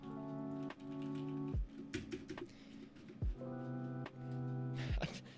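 Key clicks tapped on a faulty computer keyboard, with sparse, uneven presses and short bursts of rapid keystrokes, close and fairly quiet over a steady background hum.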